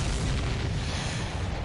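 A target explosion in the video game Ace Combat 7: a dense, loud, sustained boom with heavy low rumble and broadband roar, steady throughout with no talk.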